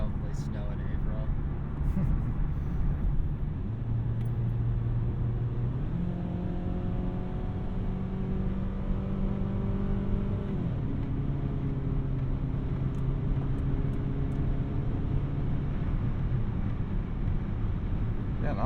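A 2001 Toyota Camry LE on the road, heard from inside as a steady low engine and road rumble with a subtle rise and shift in engine pitch as it accelerates and changes gear, with people talking over it.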